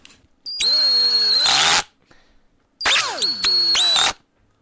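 A power drill drives screws into a wall in two loud, close bursts of about a second and a half each, separated by a short pause, with motor whine rising and falling as each screw seats.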